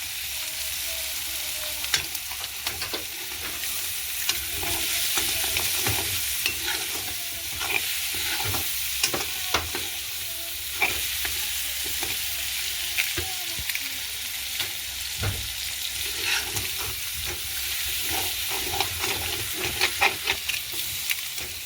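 Egg stir-fried with dried anchovy and onion in a pan, a sustained sizzle broken by frequent sharp scraping and clinking strokes of a spatula in an irregular rhythm, close and fairly loud, no speech.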